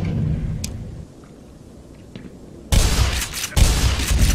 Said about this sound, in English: Point blank range with a shotgun